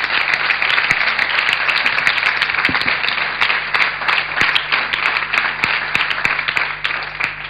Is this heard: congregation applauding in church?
yes